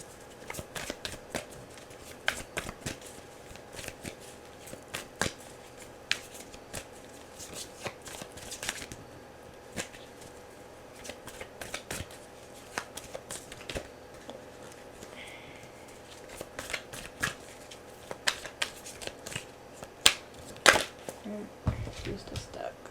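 Tarot cards shuffled by hand during a romance reading, soft irregular riffling and tapping that stays quiet and close with occasional louder snaps.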